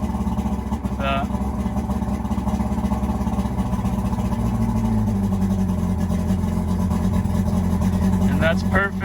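A boat engine, under restoration and not yet in the water, idles with a steady, continuous mid-pitched drone throughout, while a voice speaks briefly near the start and again near the end.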